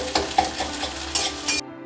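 Egg bhujia fries in a pan, with a steady close sizzle and a few scraping stirs before it cuts off abruptly.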